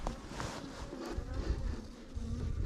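Honeybee drones buzzing around a backyard hive as a beekeeper adds a honey super, a steady close insect drone with individual bees swelling louder as they pass near, no talk.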